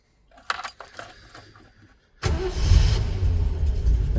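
A 1971 Triumph Stag engine cranks and fires up after a few faint clicks and knocks, then settles into a loud, rough, steady idle close by.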